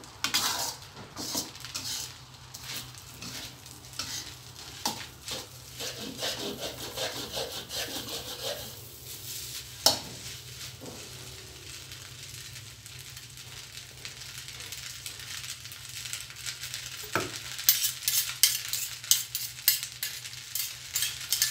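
Pad thai with pork is stir-fried at a street stall, with a spatula scraping and clattering rhythmically against the pan over a continuous low sizzle and background hum, busy and close.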